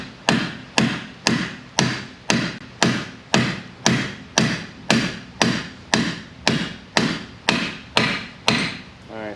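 Steady hammer blows on a wooden board held against a Ford EcoSport steering knuckle during front hub bearing removal, about twenty evenly spaced sharp knocks, close and loud with no talking.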